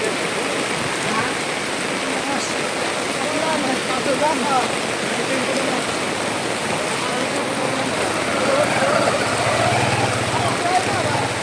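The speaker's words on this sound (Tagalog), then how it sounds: "Natatapon na tubig sa atin eh" Floodwater spills and rushes steadily during Typhoon Carina, a loud continuous watery roar that persists the whole time, with people talking over it.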